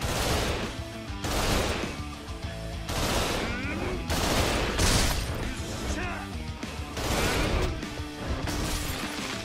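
Rapid machine gun fire from three gunners in the Yakuza 0 video game, loud dense bursts repeating throughout with crashes and impacts mixed in, under game speech.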